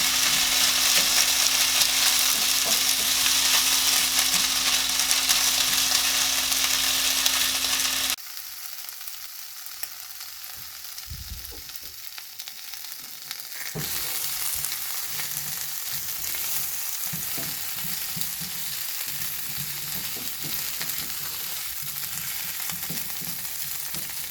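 Lit'l Smokies sausages browning in a pan sizzle loudly at first, then the hiss drops away briefly and comes back as a softer, steady crackle with occasional pops, no speech.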